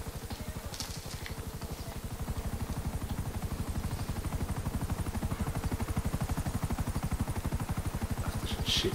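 A helicopter in GTA 5 Online chops steadily with a fast, even rotor pulse that grows slightly louder over time, a rapid rhythmic thudding with faint clicks on top and no speech.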